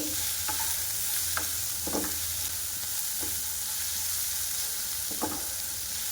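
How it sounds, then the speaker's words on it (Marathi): Vegetables for street-style veg Hakka noodles stir-fry on a high flame, giving a constant loud hiss of sizzling broken by about half a dozen sharp spatula scrapes against the pan. "आपल्याला हे नुसते हाय फ्लेमवर फ्राय करून घ्यायचे आहे"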